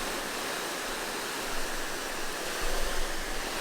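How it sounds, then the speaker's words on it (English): A garden hose spray nozzle on its flat setting throws a fine mist of water, a steady close hiss that stays continuous and even throughout. "It makes like a fine mist, so it could be very good for watering certain things."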